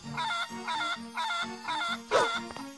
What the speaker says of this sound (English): I found a chicken.